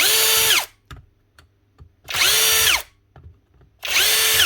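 A faulty Milwaukee impact driver with a gearbox problem revs in three loud, close bursts of whining motor spin, each winding up and down without hammering, separated by near silence and faint handling clicks.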